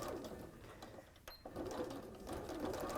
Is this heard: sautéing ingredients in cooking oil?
no